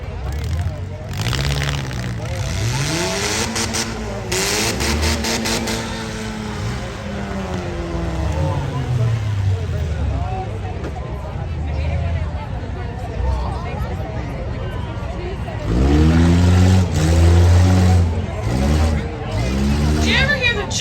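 Demolition derby cars rev their engines at a country fair, with rising and falling engine whines at a middle distance over a steady crowd murmur, then a louder burst of revving near the end.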